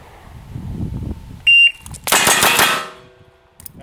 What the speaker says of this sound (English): on the beep, draw the gun, try to put two shots on each plate, couple of double taps